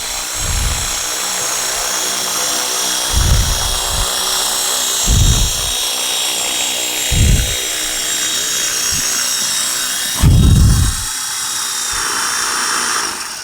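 An Align 450L RC helicopter with a red canopy lands automatically, its steady high rotor and motor whine running throughout, broken by several low thumps and one louder knock near the end.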